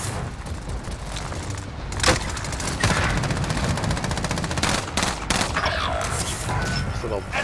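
Call of Duty: Modern Warfare gunfire rattles in rapid automatic bursts, with dense clusters of sharp shots and a few heavier booms, loud and near, under occasional talk.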